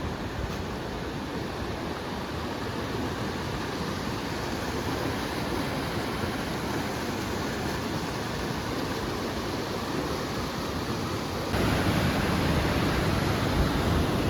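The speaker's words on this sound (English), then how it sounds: "The waterfall is so sick" A steady, dense roar of rushing water from a waterfall in Yosemite in the fall, continuous and broadband with no pauses, growing slightly louder near the end, with no voices.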